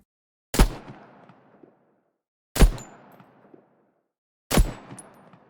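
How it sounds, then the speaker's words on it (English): Three separate designed assault-rifle shots from a video game, each a punchy loud single report with a decaying tail, evenly spaced about two seconds apart with silence between. "For designing the firing sound of the assault rifle"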